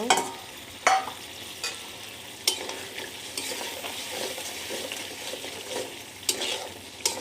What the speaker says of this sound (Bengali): এবার এর ভিতরে বড়িগুলো দিয়ে কষাতে থাকবো